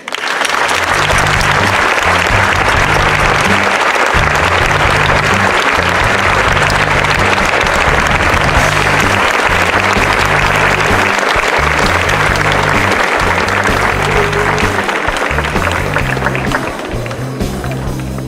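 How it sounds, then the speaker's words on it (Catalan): Audience applause after a Catalan storytelling performance of the legend of the serpent of La Venta, sustained loud clapping for about seventeen seconds with rhythmic music pulsing underneath, fading slightly at the end. "ens donem amb un fort aplaudiment"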